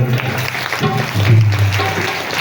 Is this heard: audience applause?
yes